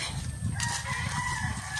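A rooster crows among chickens in a rural yard with a hut and a small garden. One long, fairly close crow holds for most of the moment, with clucking under it.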